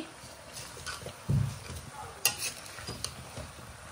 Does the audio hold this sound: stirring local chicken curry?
yes